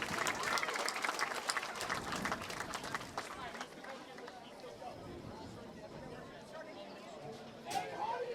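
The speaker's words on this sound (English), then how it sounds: "Have a warm Patriot welcome and a round of applause." Crowd applause and cheering in the stands at a high school varsity football game, Longwood vs. Ward Melville, loudest at first and then settling into a steady crowd murmur, with a brief swell near the end.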